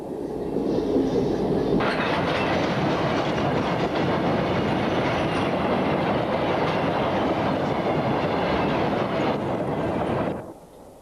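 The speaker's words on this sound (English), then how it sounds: "A train of coal empties swings around the curve from Brocklesby and heads towards" A long freight train of empty coal wagons rolls past on a curve near the Immingham port complex, its wheels clattering steadily and loudly across the whole passage before cutting off abruptly near the end.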